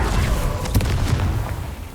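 Confringo fire spell exploding in Hogwarts Legacy: a deep, rumbling boom that lasts about two seconds, with crackling bursts and no speech.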